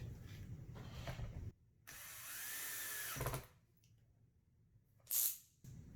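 A cordless drill whirs in short bursts, driving screws into a futon leg, spinning up and winding down between pauses, with a sharp high squeal near the end.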